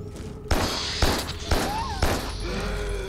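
Gunfire in the sci-fi horror game Carrion, four loud bursts evenly spaced about half a second apart, each with a sharp crack and a ringing tail, with faint higher whines and cries between them.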